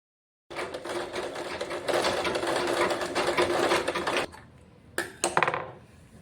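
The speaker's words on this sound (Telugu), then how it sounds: "మిషన్ స్టిచ్ ఉంది కాబట్టి దీన్ని నేను ఫోల్డ్ చేయట్లేదు డైరెక్ట్గా వేసేస్తున్నాను" A sewing machine stitches blouse fabric in a steady, fast, close mechanical whir lasting several seconds. It stops abruptly and is followed by a few short clicks and a brief restart.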